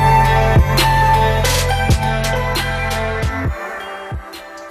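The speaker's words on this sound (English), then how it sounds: "in this song, you're going to hear him with his guitar" Future bass track with guitar and pedal steel, loud and full, with sliding tones and punchy beat hits over sustained chords, no speech.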